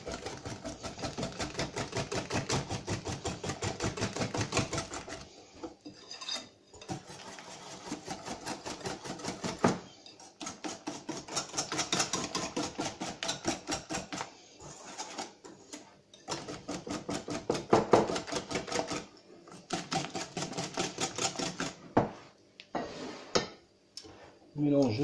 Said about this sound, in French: On mélange le chocolat